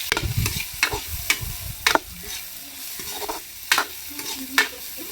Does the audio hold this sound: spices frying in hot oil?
yes